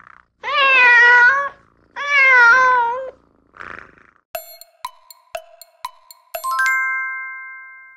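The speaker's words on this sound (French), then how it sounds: "c'est le miaulement du chat" A domestic cat meows twice in long, clear, close cries, followed by a soft shorter sound and then a series of bright chiming dings and a sustained ringing tone.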